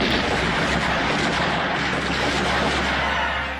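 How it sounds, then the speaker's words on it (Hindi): A dense, continuous barrage of gunfire as a sound effect for the Jallianwala Bagh massacre, shots blurring together into a loud, sustained roar with no talking. "गोलियों की बरसात चालू हो जाती है।"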